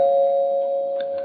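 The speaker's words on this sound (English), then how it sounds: "The doorbell rings." Doorbell chiming at close range, a steady clear electronic tone held throughout with a second chime note entering near the end, heard alone with no talk.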